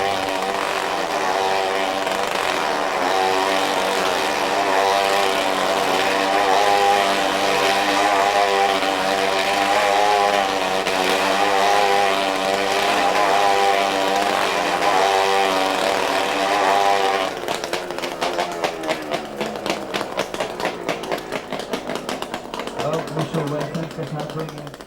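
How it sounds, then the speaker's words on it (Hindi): Motorcycles ride inside a circus globe of death, giving a loud, continuous engine drone that changes to a rougher, pulsing sound near the end. "मृत्यु गोल में मोटरसाइकिल चलाना"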